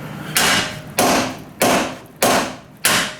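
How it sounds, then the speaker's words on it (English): A hammer whacks a Honda Civic CV axle joint five times at an even pace, each blow a loud, close thud-crack with a short decaying tail and nothing else around it. "we're gonna give this a couple whacks with the hammer"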